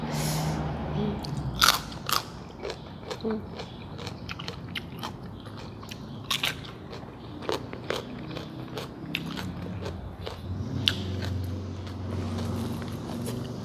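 Crunchy bites and chewing of tender winged beans eaten with chili dip and sticky rice, close and repeated at an irregular pace with no talking.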